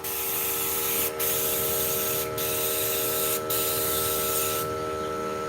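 Kilz paint being sprayed with a paint sprayer, throwing off heavy overspray: a steady, loud hiss broken by three brief pauses and a final change near the end.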